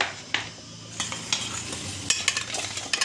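Raw fish pieces being mixed with salt and turmeric for a Bengali yam-and-fish dish, giving soft, close scrapes and light clicks in scattered bursts against a quiet background.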